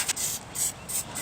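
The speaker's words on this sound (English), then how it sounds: "we're going to take our Dutch oven liner and put cooking spray in it so it won't stick" Cooking spray hisses into a Dutch oven liner in short aerosol bursts, about three quick sprays with brief gaps between them, close and fairly quiet.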